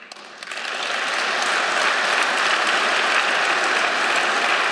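A party congress crowd at a chairman's re-election breaks into applause, building quickly from a few claps to a full, steady roar of clapping that holds loud and even.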